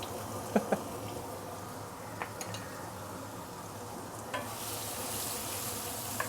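Salted fermented black beans sautéing in hot oil for a fish and bitter melon stew, a faint steady sizzle with a few sharp clinks of a utensil against the pan, no voices.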